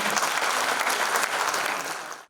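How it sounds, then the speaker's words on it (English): Applause from an audience at the Lagos Revenue Portal launch event, a dense steady wash of many hands clapping at once, loud and sustained before cutting off abruptly. "I think we deserve a round of applause for that."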